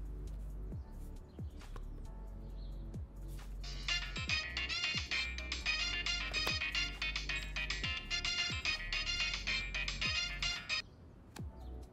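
A phone ringtone plays as a bright, repeating electronic melody for about seven seconds in a scene from a Hindi-dubbed Chinese romantic drama. It sits over quiet background music with soft rhythmic low thumps, then stops.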